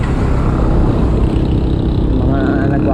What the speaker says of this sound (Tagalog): Ay, ito na, dito na yung maraming truck.